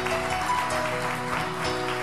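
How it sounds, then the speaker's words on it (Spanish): A congregation at a church service applauds, with a steady, sustained clatter of many hands and faint tones underneath. "Denle un aplauso al Señor"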